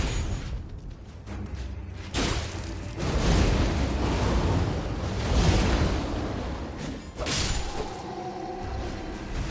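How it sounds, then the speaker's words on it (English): An enemy's area-of-effect explosion attack in Elden Ring, sweeping whooshes building into two heavy booming bursts about five seconds apart, with rumbling roar between them. "I don't know the AoE explosion it does"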